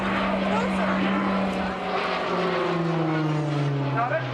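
RAF Tucano propeller trainer aircraft in a flying display at the Southport airshow, a droning propeller engine whose pitch slowly falls as it passes, heard steadily under a commentator's talk.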